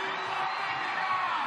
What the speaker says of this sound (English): the crowd goes wild for Brown, who gets a fabulous silver